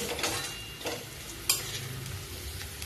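Sautéed onions sizzling in a pan for Maharashtrian pithle, with a utensil stirring them in steady strokes; continuous close frying hiss marked by a few sharper scraping bursts.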